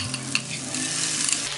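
Ground masala with ginger garlic paste and softened onion frying with mutton and a little mutton stock, a close, steady sizzle with a few quick stirring clicks.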